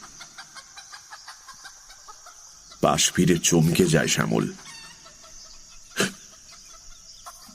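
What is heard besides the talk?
chickens in a poultry shed making a commotion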